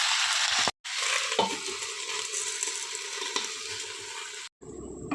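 Winter vegetables cook covered in a pan over low gas, giving a steady, close hiss of sizzling and frying broken by two brief silences, with no talking.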